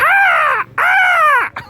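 A crow gives two loud, harsh, drawn-out caws close by, each lasting over half a second, with a brief start of a third at the end.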